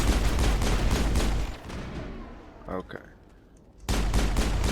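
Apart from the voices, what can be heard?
pistol gunfire in the video game Mass Effect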